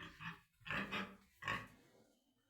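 Piglets grunt in a warm pen lit by two heat lamps, three short grunting bursts close by, then near silence.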